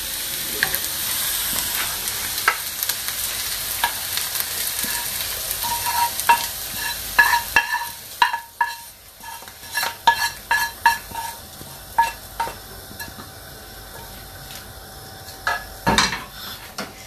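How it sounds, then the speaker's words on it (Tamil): Stirring onion mixture into dosa batter in a pot, with wet scraping and a soft sizzle, then repeated sharp clinks and scrapes of a spoon against the vessel, close and fairly loud with no talking. "இனி அந்த மாவோட கலந்து மிக்ஸ் பண்ணிடலாம்."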